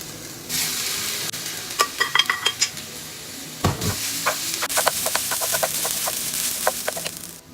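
Cooked brown rice goes into a hot pan and gets stirred, a soft sizzle running underneath while a utensil clinks and scrapes against the pan in quick irregular taps.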